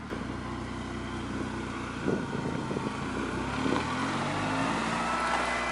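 A Mitsubishi Eclipse engine idling steadily after servicing, still blowing debris out: a continuous low rumble with a couple of brief revving swells and some wind buffeting, no voices.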